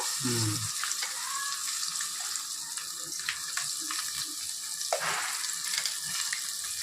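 Gongura chutney tipped into a hot tempering crackles and sizzles steadily from close by, with a few brief stirring scrapes and clinks and no talk.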